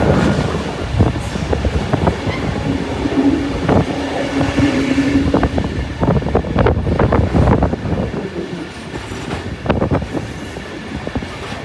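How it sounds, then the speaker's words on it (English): A Sydney Metro train running along an old rail line heading toward a tunnel, loud rolling rumble with repeated sharp wheel clacks and a sustained squeal early on, close by and without speech. "The metro basically goes to a tunnel."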